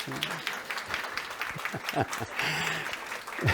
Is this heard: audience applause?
yes